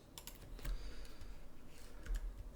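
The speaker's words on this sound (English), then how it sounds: "Q on the keyboard" Computer keyboard keys are pressed while building a 3D bar scene in Maya 2020, giving a few sharp, close clicks in quick succession over a quiet room.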